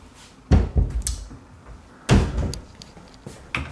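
Wardrobe doors in a furnished studio apartment open and close, giving several sharp wooden thuds and knocks with softer rattles between them, close by and without talk.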